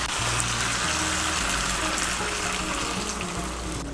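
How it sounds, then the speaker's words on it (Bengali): Two cups of hot water pour steadily into a pumpkin curry in a pot, a continuous close splashing hiss that runs unbroken throughout with no voices. "আমি এর মধ্যে 2 কাপ গরম জল দিচ্ছি।"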